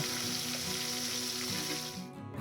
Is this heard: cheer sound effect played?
no